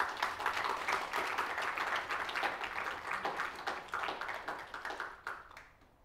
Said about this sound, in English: We can first give you a round of applause.